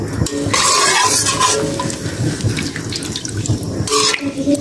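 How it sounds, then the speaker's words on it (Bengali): Water splashes loudly into a pan of cooked-down curry, a close gushing pour that eases into lighter trickling and bubbling, with a renewed burst near the end. "তরকারিটা কষানো হয়ে গেছে, তরকারির মধ্যে জল দিয়ে দিন।"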